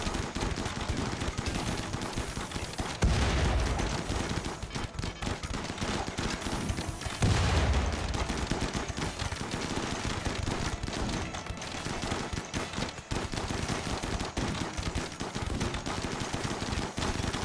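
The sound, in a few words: heavy incoming gunfire in a video game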